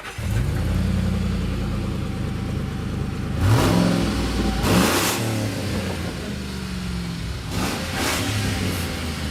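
A Lincoln Navigator fitted with a ZIL 130 engine cranks and catches, then settles into a loud, rough idle broken by several sharp revs that climb and fall, recorded close with no talking.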